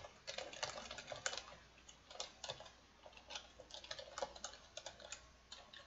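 Someone types an email address on a computer keyboard while setting up an online giving profile. The keystrokes come in quick, irregular runs of soft clicks, close and quiet, with no voices.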